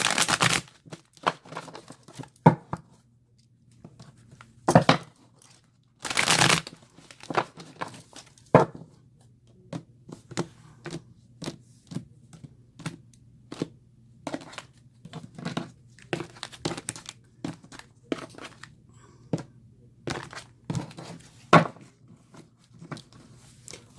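Tarot cards are shuffled by hand in sporadic bursts of crisp riffling and flicking, with sharp louder snaps between quieter stretches, close and alone.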